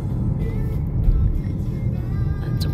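A car drives along a road in South Korea, heard from inside as a steady low rumble of engine and tyres with no clear changes.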